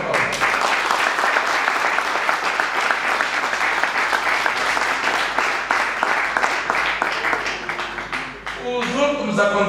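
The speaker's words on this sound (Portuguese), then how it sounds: "Então, de parabéns, uma salva de palmas" A crowd at a party meeting gives a long, loud round of applause, dense clapping with sharp individual claps standing out, which thins out near the end as voices begin to come through.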